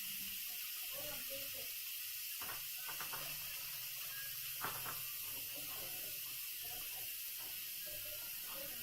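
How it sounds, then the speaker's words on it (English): Steam hisses steadily from a pressure cooker valve during the release after cooking beef bourguignon, a broad continuous hiss close by with scattered faint clicks and rattles underneath. "So we're almost done with the steam release."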